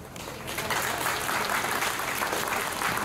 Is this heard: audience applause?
yes